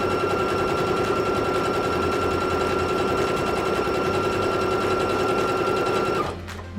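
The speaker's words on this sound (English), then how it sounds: "you can hear the difference in the machine when it goes over the double folds there" A sewing machine stitches an envelope cushion, running over double folds of fabric in a fast, steady mechanical whir with a sustained hum. It stops abruptly near the end.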